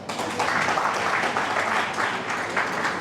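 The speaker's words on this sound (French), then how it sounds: "Est-ce qu'on peut acclamer ça?" Steady applause from an audience at a training session, a dense wash of many hands clapping that holds evenly for a few seconds with no talk over it.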